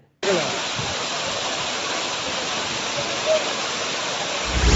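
Courtallam main waterfall roaring as a steady, loud, close rush of falling water, constant broadband noise throughout with no break.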